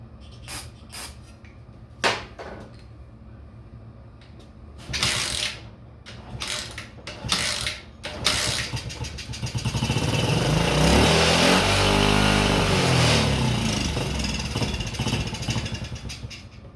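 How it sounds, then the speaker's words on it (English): A pit bike up on a lift gets a few clanking hand-crank attempts, followed by its small engine catching and running in a loud, rough, fluttering idle that rises and slowly settles, close by. "I'm going to try to start it by hand up on the lift."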